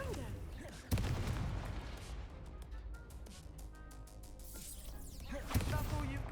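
A Confringo fire spell explodes in Hogwarts Legacy, with booming blasts and crashing impacts over rumbling combat effects and game music, two sharp hits standing out near the start and end.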